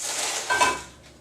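A lid set onto a pot holding shaped bread dough before baking, a single short clink and scrape of metal or ceramic, close and fairly loud, with no talking.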